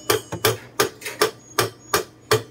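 A hammer drives a vice grip clamped on a part of a Samsung automatic washing machine during a home repair, landing about eight sharp metallic blows at a quick, fairly even pace, close and loud with no talk.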